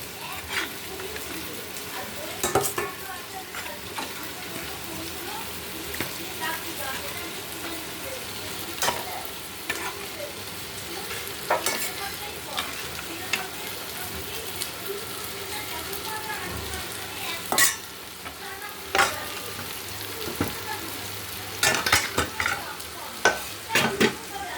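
Fish kalia curry cooks on an induction cooker, giving a steady close sizzle with repeated scraping stirs and occasional sharp clinks of a utensil against the pan.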